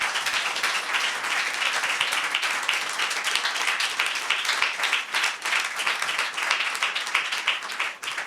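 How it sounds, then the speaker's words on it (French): Steady audience applause from a crowd at a graduation ceremony, many hands clapping densely and evenly for the whole stretch, fairly loud with no voices over it. "Je vous demande de l'applaudir, s'il vous plaît."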